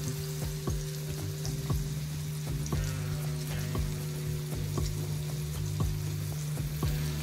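Stuffed bangda mackerel fries in oil over a medium flame, with a continuous close sizzle broken by regular light taps and clinks from the pan.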